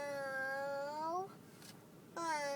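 A voice imitates a cat's meow, giving two clear, drawn-out, close meows separated by a short pause.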